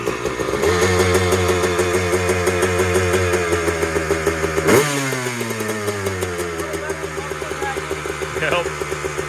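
A Honda CR250 two-stroke motorcycle fitted with a big-wheel conversion fires on the first kick and revs, a loud, close, buzzing engine note that climbs, snaps up sharply once, then settles into a fluttering idle.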